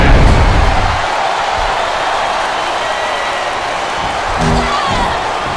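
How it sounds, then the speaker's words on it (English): Video game crowd in WWE Smackdown vs RAW 2007 on Xbox 360 during a women's submission match, a loud, dense wash of arena cheering and roar that swells at the start and again near the end, with a voice speaking briefly. "I love hearing the crowd come alive"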